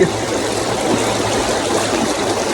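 A jungle river flows steadily, a close, loud bubbling and rushing of water with no voices over it.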